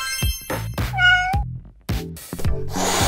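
A cartoon cat meows several times, a mix of short and drawn-out cries, loud and close over a light animated soundtrack with no speech.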